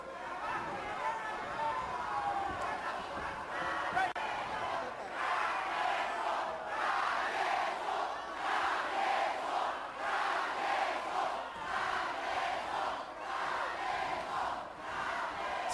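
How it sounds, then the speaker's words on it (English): A boxing crowd at Jorge Arce's fight against Angky Angkota roars in rhythmic swells of chanting and cheering, loud and sustained, with a commentator's voice now and then over the noise. "Crowd, needless to say, very much in support of Arce."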